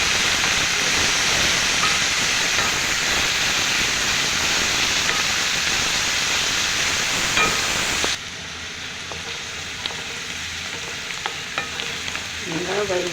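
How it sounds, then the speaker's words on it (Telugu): Spices fry in hot oil with a steady, loud sizzle and hiss that drops sharply partway through as the heat or stirring changes, leaving a softer crackle with occasional pops and scrapes. "నూనెలో బాగా వేయించాలి."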